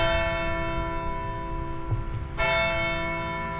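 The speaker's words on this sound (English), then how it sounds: "we would have been right at the top for all of those bells" Church tower bells ringing out in a city in Banja Luka, Bosnia and Herzegovina, with sustained overlapping tones and a fresh strike near the end, loud and resonant without any talk.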